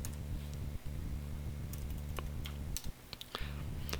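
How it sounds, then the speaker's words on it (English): Steady clicking keystrokes on a Mac computer keyboard, a close, fairly quiet run of taps with a few sharper clicks near the end as a command is entered. "Now we type in Java C"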